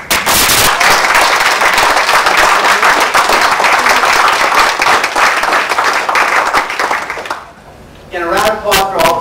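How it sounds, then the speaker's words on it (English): Audience applause for the speakers at the Hyde Park Forum finals, loud dense clapping sustained for several seconds, then fading, with a voice speaking over the tail end. "a round of applause for all the speakers"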